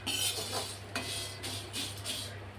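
Whole spices, including cloves, roast and get stirred in a pan over medium heat, giving light scraping and clinking strokes in an uneven rhythm over a low steady hum.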